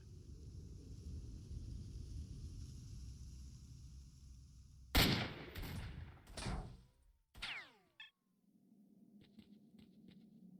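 Close shotgun blasts in the video game S.T.A.L.K.E.R.: Shadow of Chernobyl, a few sharp loud reports with decaying echoes cutting through a low rumbling ambience, followed by a quieter hum.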